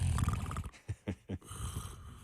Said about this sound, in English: This is a snore.